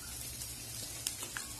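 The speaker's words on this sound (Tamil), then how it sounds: "இப்போ இதை வந்துட்டு இந்த எண்ணெயில போட்டுருவோம்." Chopped garlic, three large bulbs' worth, dropped into hot oil for a roadside-style garlic chutney gives a soft, steady sizzle with a couple of small crackles and pops, quiet and close, with no talk over it.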